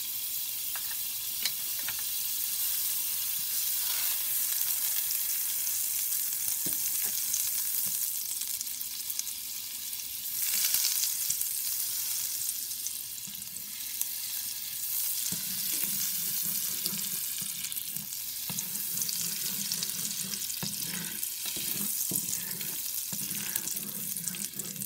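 Butter sizzling and frying steadily in a preheated pan while cauliflower paratha is being made, a continuous crackling hiss with occasional stirring scrapes throughout.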